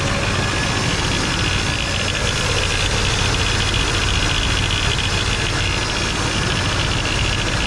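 A 1989 GMC Sierra engine idles steadily with a rough, knocking undertone from a noisy pulley, a continuous close mechanical drone with no talk over it.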